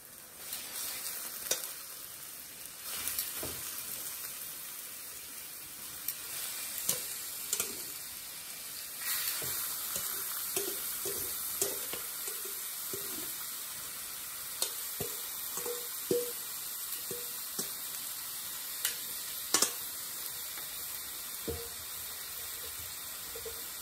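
Beef slices fry with browning onions in a pan, making a soft, steady sizzle with scattered light knocks and stirring clicks. The sound stays fairly quiet and continuous, and nobody talks.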